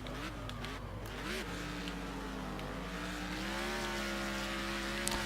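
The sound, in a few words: car engine downshifting in the video game Next Car Game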